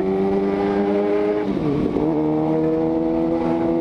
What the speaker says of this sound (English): Oh, see, LA traffic.